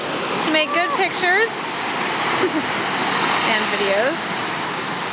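Big ocean waves break near a blowhole, a steady rushing roar of surf and spray that runs through the whole stretch, with voices talking over it.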